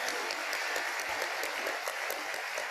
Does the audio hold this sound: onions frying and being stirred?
no